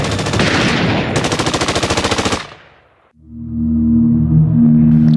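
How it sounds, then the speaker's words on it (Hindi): Loud, rapid machine gun fire rattles in a long burst, then stops and gives way to a low droning rumble with a sustained tone. "मशीन गन से गोलियां दागना शुरू कर दिया"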